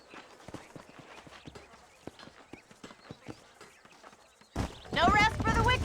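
Repeated hollow horse hoof clops in Red Dead Redemption walk along at a steady pace for several seconds, then a louder burst of voices and ambient noise takes over near the end.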